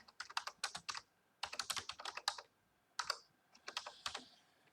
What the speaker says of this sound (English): I'm just going to type in raster to polygon.